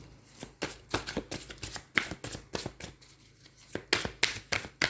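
Tarot cards are shuffled and drawn by hand, giving close, quick riffling bursts and soft card slaps in an uneven rhythm, with no voice over them.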